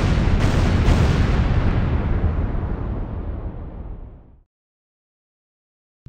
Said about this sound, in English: Loud explosion.